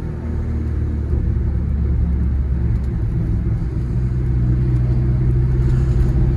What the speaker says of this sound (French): le moteur tourne rond